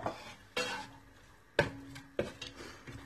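Carrots are dropped into a pan of stir-fried chicken noodles with vegetables, giving four distinct stirring clatters and scrapes close up, with a light sizzle between them.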